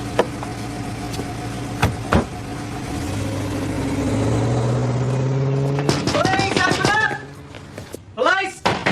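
A car engine rises and revs as the vehicle pulls away in a crime drama scene, a sustained mid-pitched growl building then fading, with people talking over it and sharp knocks at the start.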